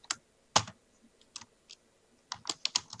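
Typing on a computer keyboard while writing Bukkit plugin code, close, with a few sparse key clicks early on and then a quick burst of several keystrokes near the end, no speech.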